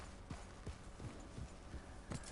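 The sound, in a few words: horse hooves on a hill in video game Red Dead Redemption 2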